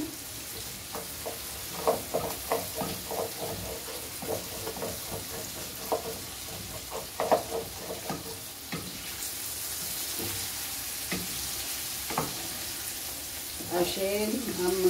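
Kofta flipped and frying in a pan: steady sizzle with irregular clinks and scrapes as the pieces are turned, close up, with a voice speaking over it at times.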